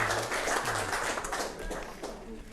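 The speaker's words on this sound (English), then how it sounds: "Round of applause for the organisers for tonight." A pub audience at a stand-up maths show gives a short burst of clapping for the organisers, close and fairly loud, with a voice speaking over it.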